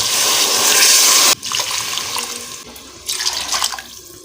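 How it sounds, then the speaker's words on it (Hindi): Water gushes into a cooking pot for chana pulao with rice and chickpea cooking water, a loud, close splashing pour in two or three bursts with short pauses, no talk. "अब हम इसमें पानी डालेंगे।"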